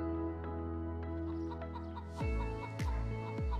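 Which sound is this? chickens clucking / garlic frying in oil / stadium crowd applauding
chickens clucking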